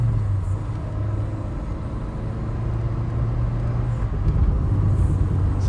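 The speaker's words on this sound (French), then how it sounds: "je sais pas si à la caméra on entendra le bruit de l'embrayage, mais il fait un bruit trop mignon" Citroën car engine and clutch droning steadily from inside the cabin while driving, a constant low rumble with a faint whine running through the whole stretch.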